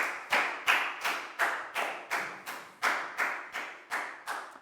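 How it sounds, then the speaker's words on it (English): Students in a Year 4 English class give a short round of applause, a steady run of about a dozen distinct, fairly close claps at an even rhythm with no talking. "Big round of applause for Pat too"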